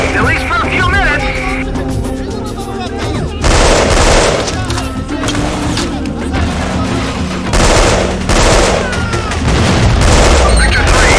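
Bursts of automatic gunfire and booming explosions from the Delta Force: Black Hawk Down video game clatter in repeated volleys, some loud and close, with voices talking between shots.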